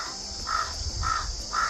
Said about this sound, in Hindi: ठीक सामने वाले पेड़ पे देखो भाई कौवा मस्त करके का कर रहा है वहाँ पे।